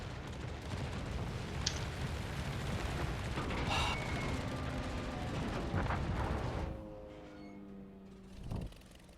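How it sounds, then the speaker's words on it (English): Torpedo hits burst in a World of Warships naval battle: a run of heavy booms and blasts rumbles for several seconds, then fades into quieter game sounds with a final thud near the end. "Holland torpedoes. Yep, that's gonna eat them."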